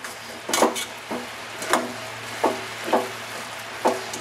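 Kerala-style jackfruit avial (chakka aviyal) being stirred in a pot, with close, distinct scraping and clinking strokes repeating roughly every half second to second, over a quiet background with no talk.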